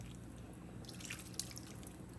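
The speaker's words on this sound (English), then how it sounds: "I mix some broth with it." Broth poured and mixed into a bowl of leftover seasonings for baked chicken, heard as soft, steady liquid dripping and trickling at close range with a small splash near the middle, no voices.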